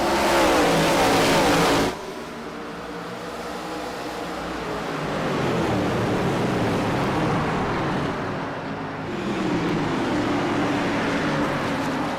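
ARCA series sim race cars roar through a green-flag restart at World Wide Technology Raceway (Gateway), a dense, loud engine drone that drops briefly and then swells again as the pack accelerates, with no talking.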